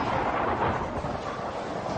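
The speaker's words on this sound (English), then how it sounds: "That creates a sound wave known as thunder." Low, rolling thunder rumbles steadily and fairly softly for about two seconds, like a distant storm, with no voices.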